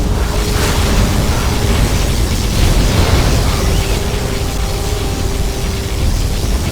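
A particle cannon blast in the strategy game Command & Conquer Generals Zero Hour, a loud, sustained roaring rumble of noise that fills the whole stretch with little variation, heard alone without talk.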